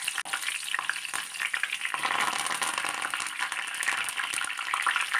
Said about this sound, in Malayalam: അതേ എണ്ണയിലേക്ക് തന്നെ 5-6 പച്ചമുളക് കീറിയതും 1 തണ്ട് കറിവേപ്പിലയും കൂടി ഇട്ടൊന്ന് മൂപ്പിച്ചെടുക്കാം.